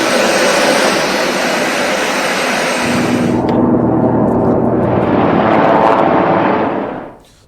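A jet airplane engine roars loudly and continuously, a broad rushing whine with a high tonal edge that shifts partway through, then fades out quickly at the end.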